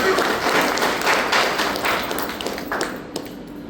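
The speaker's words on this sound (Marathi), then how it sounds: "आपण जोरात टाळ्या वाजवू." A crowd at a remarriage ceremony held by a community development organization applauds loudly, with dense, sustained clapping that continues steadily and thins slightly toward the end.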